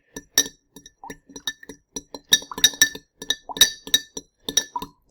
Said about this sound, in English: We'll go ahead and give this a stir.